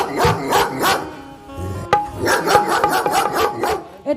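Several dogs bark in repeated bursts at night, their yips and barks overlapping against a steady mid-level background, with a sharp click partway through.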